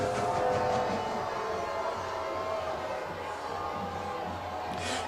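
A football crowd at a 2022 NISA semifinal between Chattanooga FC and Michigan Stars keeps up a steady, loud roar of disapproval, with a broad wash of voices and no distinct individual words.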